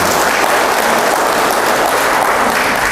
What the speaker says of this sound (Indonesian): Tepuk tangan untuk buat Bapak Ibu sekalian.